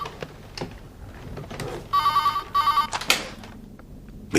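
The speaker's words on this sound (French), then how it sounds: "Après que j'aurai répondu au téléphone." A telephone rings in an indoor scene from a TV drama, with two short bursts of electronic trilling ringing amid faint background noises and thumps.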